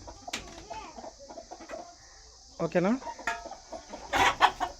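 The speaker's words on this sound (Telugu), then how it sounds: "భీమవరం పుంజు ఇది మిగతాటివన్నీ బెర్స్ పెట్టలు" Bhimavaram hens and a rooster cluck and call in a farmyard, with several loud bursts of clucking near the end and a person speaking briefly among the birds.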